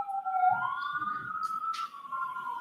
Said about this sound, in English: Sirens go further away.